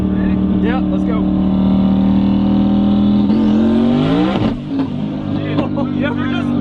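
High-speed car on a traction run at around 160 mph, engine note climbing steadily and loud under talk, then pitch jumping sharply as the tires break loose before settling into a lower rev.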